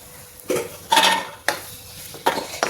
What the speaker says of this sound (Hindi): इसको चलाते रहें, जलने ना पाए, काजू जल्दी जल जाता है।